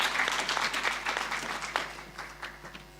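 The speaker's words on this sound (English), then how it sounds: "Can we appreciate him again with a round of applause?" Audience applause at a faculty of management and law research day, a steady wash of many hands clapping that carries on throughout without anyone speaking.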